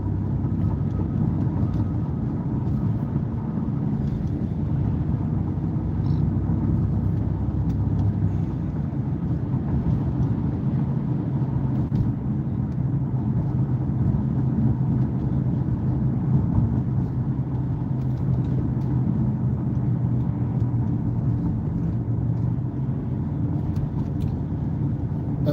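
Ford Mustang Mach-E electric car driving along a curving road, a steady low rumble of tyres and road noise with faint cabin hum, constant and unbroken throughout.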